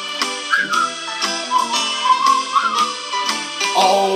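A whistled melody in a song, clear and loud over a plucked, rhythmic instrumental backing.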